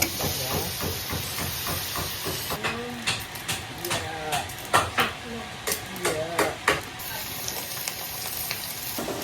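Coconut milk poured into a cooking pot at a camp in Samar, Philippines, hisses and sizzles steadily while a spoon clinks and stirs in bursts, with someone talking over it.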